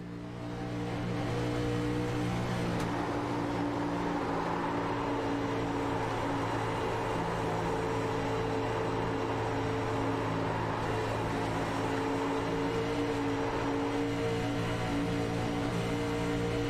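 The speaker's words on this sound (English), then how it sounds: "Let's just listen to Josh Parker work the throttle around the track here." Onboard a race car in an INFRA Challenge 100s event as Josh Parker works the throttle around the track: a loud, continuous engine drone with strong harmonics that swells and eases with the throttle, heard alone without talk.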